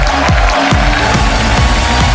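A studio audience on The Kapil Sharma Show claps loudly and steadily to welcome the guests, a dense, continuous wash of applause with faint cheering mixed in.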